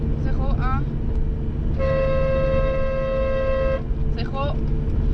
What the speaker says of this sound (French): je klaxonne